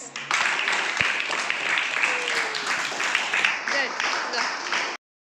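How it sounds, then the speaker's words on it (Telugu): Students clapping together in a classroom, a dense burst of applause lasting about five seconds at steady loudness before stopping abruptly. "క్లాప్స్."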